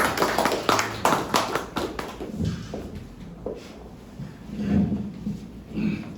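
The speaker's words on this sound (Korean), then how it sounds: "자, 박수로 환영해 주시기 바랍니다." A lecture audience at a Buddhist environmental group's talk claps to welcome the speaker, a burst of scattered hand claps over the first two seconds that thins out into room noise and faint murmuring.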